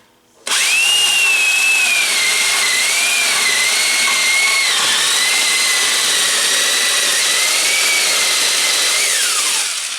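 A power drill bores through boards stacked back to back, with a loud, steady high whine that dips and wavers in pitch as the bit bites, running continuously for about ten seconds before spinning down.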